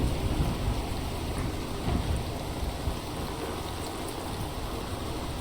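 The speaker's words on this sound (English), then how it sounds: "I'm not fighting a storm." A thunderstorm in the sailing game Sailwind: steady, dense rain and wind roar with low rumbling thunder underneath, loud and continuous throughout, no voices.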